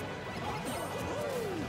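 A Hard Knuckle attack lands in a Super Smash Bros doubles match, giving a short crashing impact against busy game noise at moderate volume.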